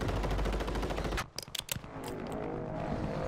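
LMG machine-gun fire in the video game Call of Duty: Warzone 2: a loud, dense sustained burst of rapid shots for about a second, then a few sharp separate cracks and a lingering noisy tail.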